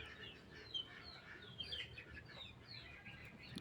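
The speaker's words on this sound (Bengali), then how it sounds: "দেশি মুরগি তো।" Native desi chickens in a village yard give a few soft, faint clucks and chirps scattered over low background noise, with no talking.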